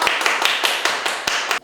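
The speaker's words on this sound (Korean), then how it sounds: "박수." A classroom audience gives a short burst of applause, about eight sharp claps in quick succession that stop abruptly after under two seconds.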